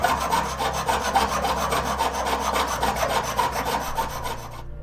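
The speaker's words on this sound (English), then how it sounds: "take our habaki and basically cut out a recessed portion on the bottom" Metal is filed to cut a recessed portion into a katana habaki, a close, steady rhythmic rasp of rapid back-and-forth strokes that stops abruptly at the end.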